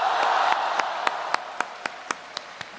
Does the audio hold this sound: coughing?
no